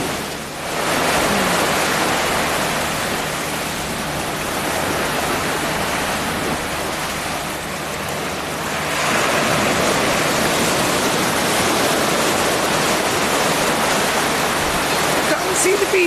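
Loud, continuous roar of sea surf breaking on a fog-covered beach beside a pier, broad and washing with a slight swell midway, no clear voices standing out.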